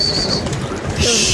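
Pigeons coo softly and briefly at close range, a low throaty murmur mixed with light rustling and a faint high tone.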